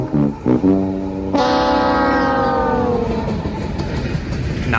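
A Union Pacific three-locomotive lead on a coke train sounds its horn with sustained harmonic blasts, then rumbles steadily past, loud and close with a continuous low roar.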